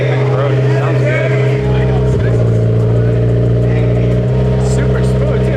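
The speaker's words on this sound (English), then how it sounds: "The exhaust sounds really nice. It's actually louder than I thought it was gonna be, but it's like deep and throaty." A turbocharged Honda S2000 AP2 engine running through its exhaust, a loud, deep, steady idle with a throaty drone, heard close up and continuous throughout.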